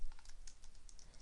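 Quick keystrokes on a computer keyboard as code is entered, a rapid run of light clicks close up at moderate volume, with no voices.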